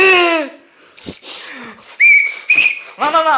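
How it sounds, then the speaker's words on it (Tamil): A whistle is blown in two short, shrill, steady bursts, loud and close, with voices and laughter around it during a heated street argument. "நீங்க விசில் எடுத்து அடிக்கிறீங்க"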